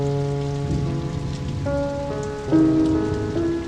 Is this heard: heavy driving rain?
yes